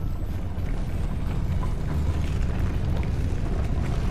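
In the video game Hogwarts Legacy, a Confringo blasting spell sets off an explosion. It comes as a loud, dense, rumbling burst that roars without a break for the full length.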